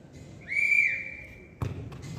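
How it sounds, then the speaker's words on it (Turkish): A coach's whistle sounds once at the start of a junior football training session, a sharp, clear blast held for about a second, followed by a thump of a ball on the field. "Düdükle başlıyoruz."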